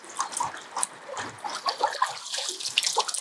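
A thick Algoma brook trout is let go into a lake, and water splashes and sloshes close by in a string of quick, irregular bursts.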